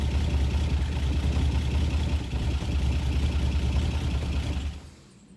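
A Buick Grand National engine with a non-charging alternator runs with a steady, low, rumbling idle close by. The drone holds evenly, then drops away abruptly near the end as if shut off.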